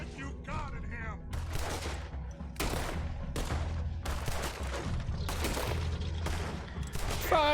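Gunfire in a Red Dead Redemption 2 swamp fight: a fusillade of sharp shots in irregular bursts, loud and close, over a low rumbling game backdrop, with voices calling out briefly.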